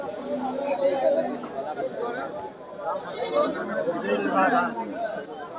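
Goats bleat amid the busy chatter of a crowded rural goat market in Bangladesh, with people talking throughout over the animal calls.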